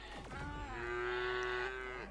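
A cow in the video game Craftopia gives one long, loud moo with a steady low tone lasting nearly two seconds, clear and close, with no talking.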